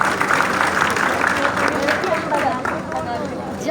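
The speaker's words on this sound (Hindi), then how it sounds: "तालियां हो जाए इनके लिए भाई।" Students clap for classmates in a coding class, a dense burst of clapping mixed with chatter and murmuring voices, fading slightly toward the end.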